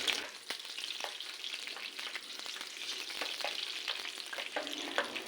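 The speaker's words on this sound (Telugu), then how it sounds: "ఇందులో 4 ఎండుమిర్చి, 4 పచ్చిమిర్చి ముక్కలు కట్ చేసుకొని వేసుకున్నాను" Four dried red chillies and four cut green chillies frying in hot oil, heard as a close, crackling sizzle with light stirring taps and scrapes throughout, moderately quiet and with no voices.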